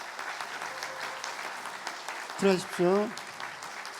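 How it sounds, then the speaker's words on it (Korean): A church congregation at a Sunday service breaks into a short, loud burst of clapping near the end, with a speaker's voice talking over the hall before it. "크게 박수 한번 부탁드리겠습니다"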